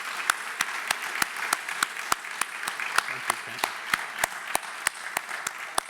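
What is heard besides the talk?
audience applause for new Empire Club CEO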